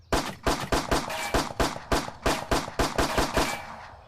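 Pistol shots fired in a VR gun range video game, about fourteen sharp, loud reports in a fast, fairly regular string, each with a short ringing tail, close up with no talk.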